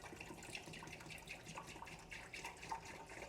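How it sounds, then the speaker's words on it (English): A full gallon of milk pours into a pot, a soft, steady liquid splash and gurgle, faint and continuous with small bubbling bursts, no voices. "I need to start with dumping my full gallon of milk in the pot."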